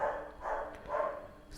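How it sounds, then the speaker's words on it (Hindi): A dog barks a few times in the background, faint and somewhat distant, with soft repeated yaps spaced across the moment. "डॉगी फिर से भौंक रहा है, बट ठीक है।"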